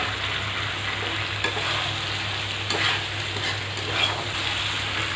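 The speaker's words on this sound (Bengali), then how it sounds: "এখন আমি আলু দিয়ে দিচ্ছি ভেজে নেওয়া।" Fried potatoes tipped into a mutton curry and stirred in the pot, a busy sizzle under repeated scraping and knocking of the spoon against the pan, close and steady.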